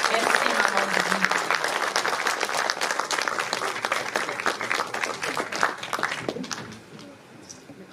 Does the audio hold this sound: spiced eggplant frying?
no